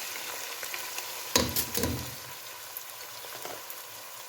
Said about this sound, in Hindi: इनको अच्छे से फ्राई करेंगे।